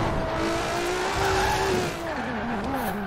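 Drifting car in Forza Horizon 4 during a surprise race with drift cars, a steady loud engine drone with a sustained tire squeal wavering in pitch throughout, no talking.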